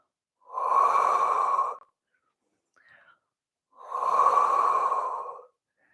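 Two long, loud breaths from a seated or standing Pilates exercise for seniors, one exhale then one inhale, with a faint small sound between them and no speech.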